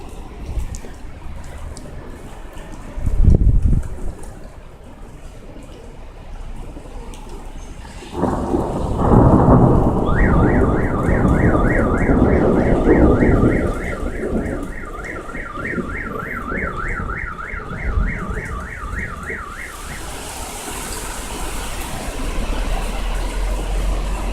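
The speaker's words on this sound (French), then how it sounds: "une pluie assez forte a tout d'abord commencé, puis en s'éloignant, l'orage a quand même lâché 2-3 impacts" A thunderstorm over Amiens in 2017 brings heavy rain hissing steadily and deep rolls of thunder, with a loud close crack early on. A warbling car alarm is set off partway through, and no one speaks.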